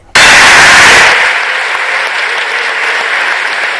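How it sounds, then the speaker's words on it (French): Loud burst of sustained applause from a conference audience at the opening of the ICASA AIDS conference, starting abruptly at full strength, then easing after a second into steady, slightly softer clapping. "Un progrès remarquable accueilli par un applaudissement nourri."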